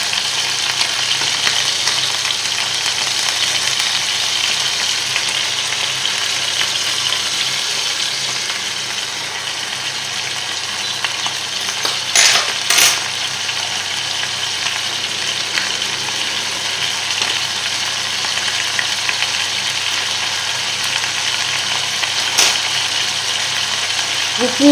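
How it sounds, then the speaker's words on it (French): Veal paupiettes fry in a pan with a steady, close sizzle that runs throughout, broken by a brief clatter as the pieces are shifted about midway. "de temps en temps, vous les bougez pour pas qu'ils collent à la poêle"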